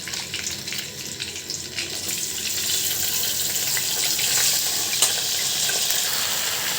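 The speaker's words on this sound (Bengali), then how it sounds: "সেই মাছের তেল গরম হয়ে গিয়েছে। এখন আমি আলু ফুলকপিগুলো দিয়ে দিব।" Potatoes and cauliflower hit hot leftover fish-frying oil in a pan, setting off a close, steady hiss and sizzle that swells slightly and carries a few sharp pops.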